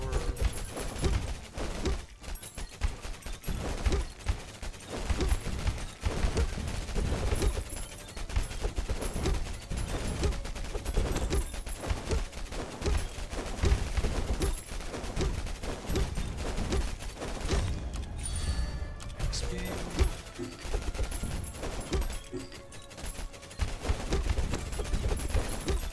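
Fire Orb spell attacks in the video game Tower of Babel: Survivors of Chaos make a dense, unbroken barrage of crackling, popping impacts that carries steadily at moderate loudness throughout.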